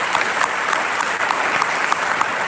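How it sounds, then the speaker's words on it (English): An audience at a regional trade connectivity event claps for an artist, a dense, steady burst of applause filling the room evenly from start to finish. "Big round of applause to him."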